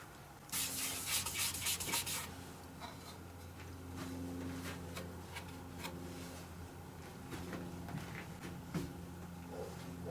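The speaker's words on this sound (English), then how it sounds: "you have to go with a much lighter grit on the sanding" Sandpaper rubs against a spinning woodturning piece on a lathe, a bright hissing scrape for the first couple of seconds, then softer, steady rasping strokes over the lathe's constant hum.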